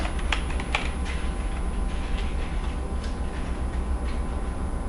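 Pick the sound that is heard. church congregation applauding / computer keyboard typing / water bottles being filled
computer keyboard typing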